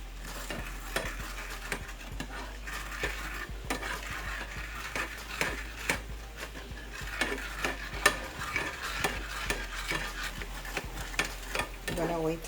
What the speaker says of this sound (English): Just stirring it here until it boils.